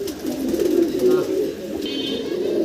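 Adult pigeons coo in low, rolling murmurs close by, a steady throaty burble running throughout with faint voices in the background.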